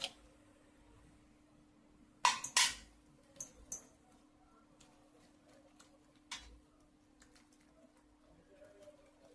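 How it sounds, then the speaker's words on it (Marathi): A spoon clinks a few times against a bowl while batter is mixed with Eno fruit salt. The sharp taps come in short bursts and there are long quiet stretches between them. "इनो टाकून असं मिक्स करून घेऊ"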